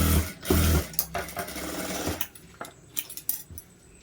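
A sewing machine stitches a plain blouse in short bursts, motor whirring and needle clattering in quick runs separated by brief pauses and small clicks of handling.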